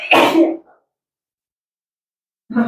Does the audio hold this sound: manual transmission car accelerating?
no